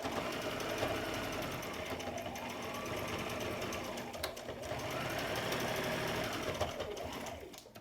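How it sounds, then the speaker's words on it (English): A sewing machine runs a straight stitch on a fabric scrunchie, a steady, continuous rapid stitching whir, close and fairly loud, easing off at the very end. "I run it through the sewing machine 3 times just like the elastic on just a straight stitch"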